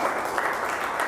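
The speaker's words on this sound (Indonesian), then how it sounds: "Kita berikan tepuk tangan." A classroom group claps briefly for group 4 after their presentation, a short, fairly quiet patter of hands.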